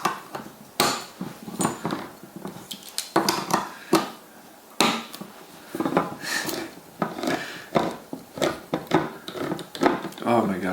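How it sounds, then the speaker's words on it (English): A can of evaporated milk is worked open in a kitchen while making flan: repeated close metallic knocks, clanks and scraping bursts in an uneven, struggling rhythm that runs throughout. "I can never open these cans"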